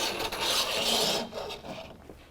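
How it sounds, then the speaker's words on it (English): A bolt head slid along a tonneau cover rail on a BAKFlip CS install, a close scraping rasp of metal on metal lasting about a second, then lighter rubbing and small clicks. "You slide the bolt head through."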